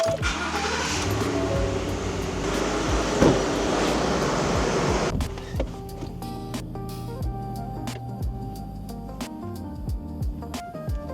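A 2015-2017 Ford F-150 pickup truck cranks and catches, a broad loud roar for about five seconds that then settles into a quieter steady idle with occasional clicks and taps.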